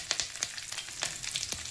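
Garlic, cumin and chili powder fry in oil in a pan on low flame, giving a steady soft sizzle with a few sharper crackles and light stirring scrapes, close and without voices.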